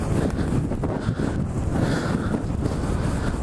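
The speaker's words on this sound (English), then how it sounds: "The wind's coming this way. It was strong enough to push it over that way." Strong outdoor wind buffeting the microphone with a loud, steady roar and gusty rumble throughout, no voices heard.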